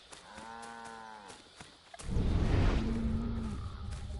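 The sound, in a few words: cows mooing in the video game Assassin's Creed III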